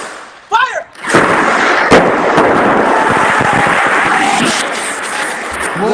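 Fireworks set off indoors in a mansion during a fireworks fight, a short sharp pop followed by a sustained loud hissing, crackling burst that fills the room, with shouting voices early on.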